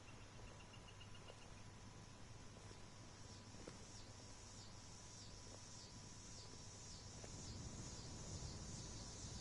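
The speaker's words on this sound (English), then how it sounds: "That's crickets, by the way." Loud, steady crickets fill the night in a dense, continuous high chirring, with a rapid pulsing trill standing out briefly near the start and no voices.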